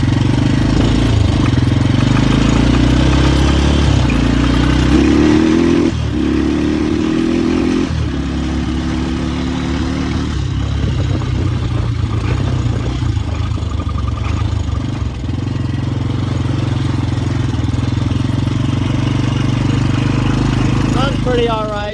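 A 1986 Yamaha Big Bear ATV engine idles steadily up close, a loud low chugging with a brief rise in revs early on, continuing evenly throughout.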